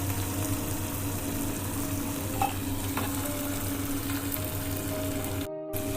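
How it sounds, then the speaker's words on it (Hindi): Fried eggplant goes into hot masala in a pan for stuffed baingan, with a steady close sizzle and frying hiss throughout, faint stirring scrapes, and a short sudden dropout near the end. "अब हम इसमें जो फ्राई किए हुए बैंगन हमने पहले निकाले थे वो इसमें हम डालेंगे।"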